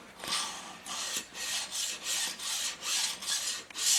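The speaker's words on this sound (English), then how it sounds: "So we're honing, and we're getting our piston to wall clearance." Rhythmic abrasive strokes of a hone working inside a Willys L-head engine cylinder, a repeated rasping scrape about every half second, close and fairly loud with no talk.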